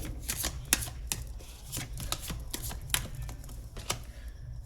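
Tarot cards being shuffled by hand in quiet, rapid riffling bursts of crisp papery flicks, close and fairly soft, with no talking.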